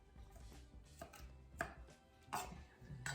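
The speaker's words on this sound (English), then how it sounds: "Preferably you're using a very sharp knife, as I am, so you can cut through without damaging the tomato." A very sharp knife dicing tomato into small cubes on a board for pico de gallo salsa, soft irregular chopping taps, quiet and close with no talk.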